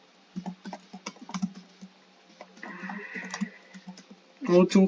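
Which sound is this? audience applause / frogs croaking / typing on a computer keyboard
typing on a computer keyboard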